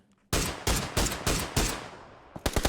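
Rapid gunfire in PUBG during a pro scrim match, a close burst of five or six loud shots in steady rhythm followed by a quick flurry of sharper shots at the end, with no talking.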